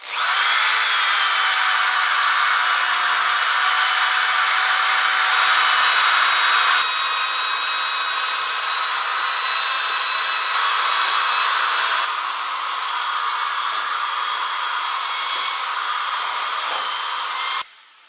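A power tool sands a cloudy, discolored plastic car headlight with a 3M polishing kit, a loud, continuous high whine that holds steady for about seventeen seconds before cutting off abruptly.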